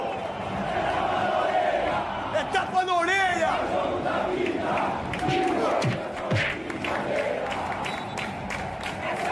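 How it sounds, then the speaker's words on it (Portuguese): Football supporters' crowd chanting for Vasco, played back as a recording: a dense roar of massed voices with rhythmic chant swells, a voice speaking briefly over it. "coloca o som da torcida."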